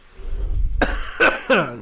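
A few harsh coughs up close, three rough bursts in quick succession after a brief low rumble.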